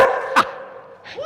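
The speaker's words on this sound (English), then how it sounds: "What's he barking at?" A dog barks sharply once, close by, then gives a softer yelp near the end, both over a steady background hum.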